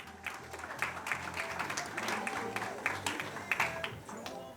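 Audience at a 2019 school promenade event clapping in steady, moderately loud applause from a mid-sized crowd, with faint voices underneath.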